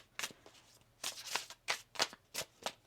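A deck of tarot cards being shuffled by hand, with about seven crisp riffling bursts at close range, separated by short pauses.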